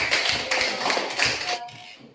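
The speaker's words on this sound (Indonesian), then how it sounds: "tepuk tangan untuk kita semua dulu" Classroom of students clapping hands together in a short burst, several quick close claps that fade out after a couple of seconds.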